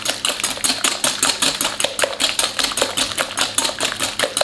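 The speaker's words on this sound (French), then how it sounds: "on va venir mélanger le sucre et les œufs" Sugar and eggs for a fat-free apple cake are whisked by hand in a bowl, giving a fast, even rhythm of close, bright scraping taps, about four strokes per second, with no other sounds.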